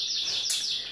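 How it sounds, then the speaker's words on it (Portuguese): Birds chirp around a home, with a thin, high twittering carried over a constant hiss of background noise for one brief moment. "muito mais barulho de passarinhos aqui na minha casa"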